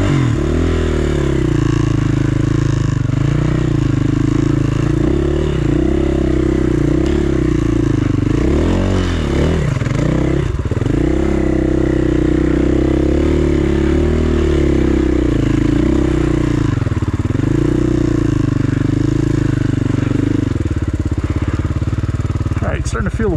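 A dirt bike engine on a mountain trail at Table Mountain, Washington, loud and close, revving and lugging with rising and falling pitch, clattering and scraping over rough ground, wind rushing throughout.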